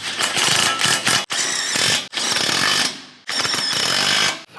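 A hand ratchet tightens the bolts of a steel front bumper on a 2022 Toyota Tundra, giving loud, rapid clicking in four long bursts with brief pauses between strokes, close up and with no talk.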